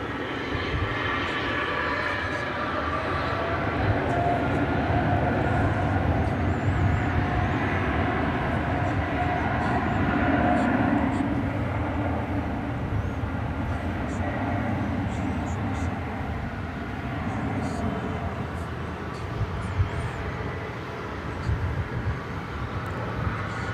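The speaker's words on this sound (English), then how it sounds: "So here goes the 777, and we'll see if it makes another" A Boeing 777 airliner takes off at Dallas/Fort Worth airport, its engines a loud, sustained broadband roar that holds steady throughout, with a person talking faintly beneath it.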